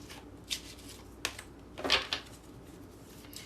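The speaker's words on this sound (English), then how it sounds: "Cards do not want to shuffle." Runic Tarot cards are shuffled in a few short, soft bursts of riffling and slapping, with a longer flurry near the middle and quiet pauses between.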